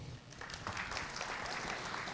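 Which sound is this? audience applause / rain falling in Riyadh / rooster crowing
audience applause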